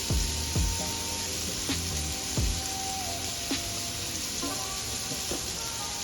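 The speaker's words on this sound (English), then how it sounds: "now we got to keep and stir the meat till it finish" Ground meat seasoned with garlic powder sizzles and fries steadily in a pan for spaghetti sauce, with a constant crackling hiss broken by a few scraping stirs.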